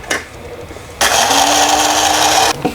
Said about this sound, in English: I'm going to use a coffee grinder.